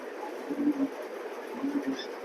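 A big male pigeon coos softly nearby, two low throaty rolling calls in a row over a steady background hiss.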